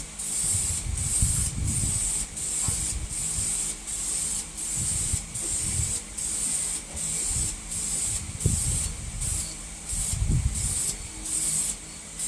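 An aerosol spray can hisses in a series of short, regular bursts as paint is applied to a Ford 302 engine block in a backyard, each spray separated by brief pauses, close and fairly loud.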